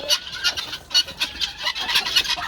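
Guinea fowl let out into fresh snow for the first time after ten days shut in keep up a busy run of harsh, rapid, repeated calls, fairly close and clear.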